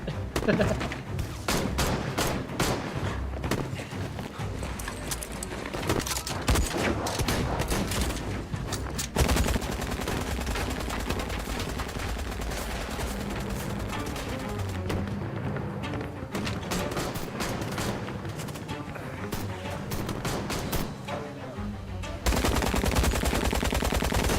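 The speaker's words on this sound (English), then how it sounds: "my game, or my computer can't handle the gunshots" Rapid, dense gunfire from the video game Syberia: The World Before rattles almost continuously in heavy bursts, with thuds and a voice occasionally talking underneath.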